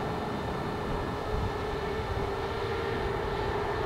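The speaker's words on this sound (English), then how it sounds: "Is that a drone out here?" Long-range FPV drone powered by a 6000mAh 18650 battery pack flying back toward the listener overhead, a steady broadband motor drone with a faint tonal whine, continuous and moderately distant with no talking.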